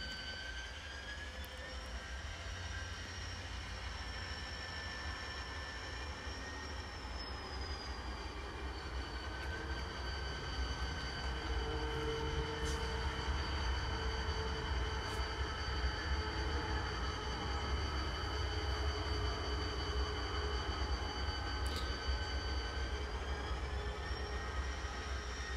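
A freight train being shoved forward during Thanksgiving Day switching in Chillicothe, a steady low rumble with a sustained engine drone and faint tonal whine, continuous and fairly distant at low level, no voices.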